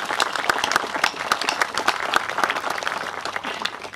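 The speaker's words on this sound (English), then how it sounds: "To the students, we should clap." An outdoor crowd claps for students at a high school athletic field groundbreaking ceremony. The applause is moderate and scattered, with distinct individual claps heard against a little background noise.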